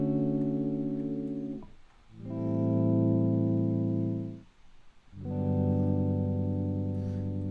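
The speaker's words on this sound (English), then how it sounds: "this one is essentially just with reverb. It's just a guitar strumming." Strummed guitar drenched in reverb and used as a synth pad, sustained smeared chords in three long swells with the attack cut off, each fading briefly before the next, clear and fairly loud.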